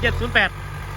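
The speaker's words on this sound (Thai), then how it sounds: "ตัวแรงประจำช่องนะครับแมสซี่เฟอร์กุสัน4708" Massey Ferguson 4708 tractor with a 4,400 cc turbo direct-injection engine idling: a steady low rumble runs under a man's brief speech for about a second.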